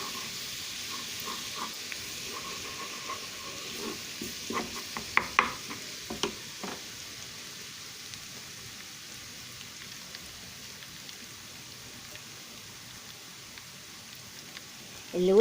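Garlic and dried coriander sizzle and fry in a pan while being stirred. A steady faint crackle runs throughout, with a cluster of sharper pops and clinks early on, then settles into a quiet hiss.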